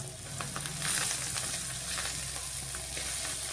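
Colocasia (taro) leaves and white sesame seeds sautéing in a hot pan, a steady close crackling sizzle with light scraping stirs throughout, no voices.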